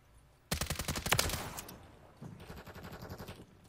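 Honey Badger rifle firing in Modern Warfare 3, a rapid burst of close, loud suppressed-sounding shots with no talk, trailing off and then picking up again in a quieter, faster stutter.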